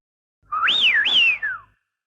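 A close, clear whistled imitation of a wigeon call: one rising and falling wheeoo phrase with a dip in the middle, sounded alone.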